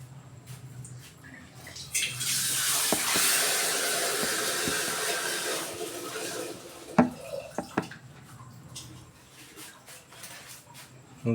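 Water pours into a bottle to top up a banana-flower NPK fertilizer solution, a steady rushing splash lasting several seconds, followed by a few knocks and handling clatters.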